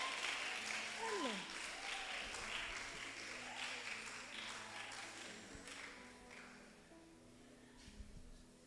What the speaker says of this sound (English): Clap for Janice.